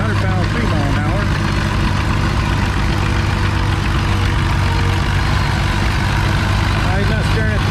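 A John Deere G tractor's heavy engine chugs loudly and steadily at a tractor pull, a continuous low rumble under an announcer talking throughout.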